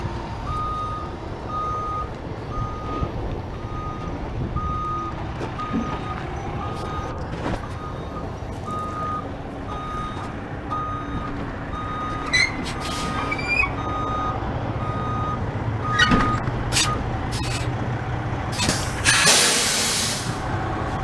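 A semi truck with trailer backs slowly through a turn, its backup alarm beeping steadily beneath a constant engine rumble, with hissing air-brake bursts and clatter near the end.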